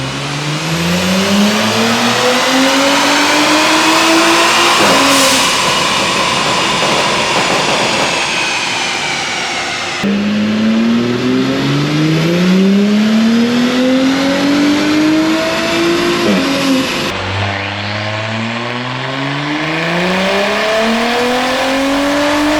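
A tuned Audi B9 S4 on Stage 3 Plus E70 tune screams through repeated full-throttle pulls on a Dynojet dyno, each run a loud rising engine whine climbing steadily in pitch before cutting off and restarting, three sweeps in all.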